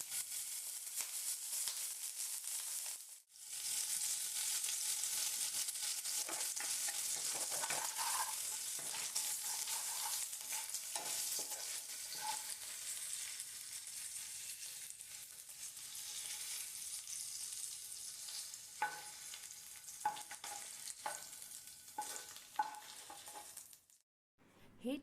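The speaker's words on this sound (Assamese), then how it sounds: "পনীৰ কেইপিচ প্ৰথমে ফ্ৰাই কৰি ল'ম" Paneer cubes sizzle in a little hot oil in a pan, a steady close-up crackle with occasional clinks and scrapes from stirring. The sound pauses briefly near the start and again near the end.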